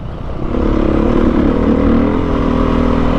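A Beta dirt bike ridden off-road on desert trails, its engine droning loud and steady close by, with a faint clatter under the drone and no talking.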